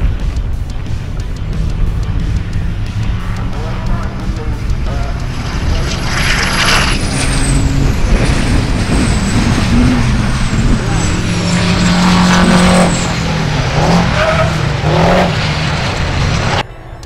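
Racing trucks at Round 1 of the Giti Supertruck Nationals 2017 roar past with loud, sustained engine drone and rising, shifting pitch as they pass close by, dominating the track noise throughout.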